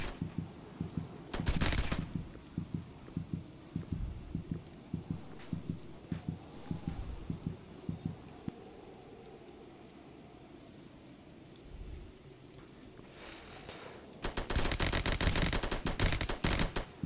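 Gunfire in the video game Task Force comes in irregular bursts of rapid shots, loud at first, then thinning to scattered pops over a rumbling background before a dense, noisy burst at the end.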